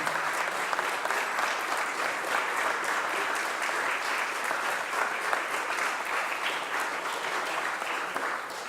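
An audience at a mayor's press conference in Philadelphia honoring Coach Fran Dunphy breaks into loud, sustained applause, a dense continuous clatter of many hands lasting the whole stretch without letting up.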